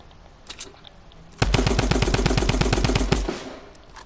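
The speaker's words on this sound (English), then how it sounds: "Tommy gun for the win." Tommy gun firing in Fortnite, a single loud burst of rapid automatic fire lasting close to two seconds, close and sharp, preceded by faint game sounds.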